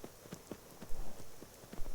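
Horse hooves clip-clopping in the Skyrim video game, a steady close rhythm of soft thudding hoofbeats at a walking pace with low rumbling underneath.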